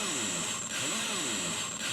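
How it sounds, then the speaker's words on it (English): Rough sampled PCM sound from a homemade Covox digital-to-analog converter on a DOS PC's parallel port plays for a couple of seconds, a harsh, hissy, buzzing tone with wavering pitch, heard close and without speech. "And we created a rudimentary PCM that sounds something like this."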